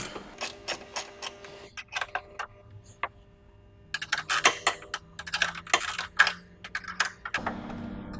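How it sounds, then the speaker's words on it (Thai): A size 12 wrench ratchets a car battery terminal nut tight during a battery replacement, a rapid series of close, sharp metallic clicks in bursts with brief pauses between them. "โดยใช้ประแจเบอร์ 12 นะครับ ในการขัน เราก็ขันเข้าเหมือนกันครับ"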